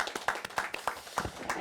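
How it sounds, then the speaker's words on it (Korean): Brief applause from a seminar audience at a science policy forum, scattered claps fairly quiet and distant, sharp separate hand strikes rather than a dense roar. "큰 박수 부탁드립니다"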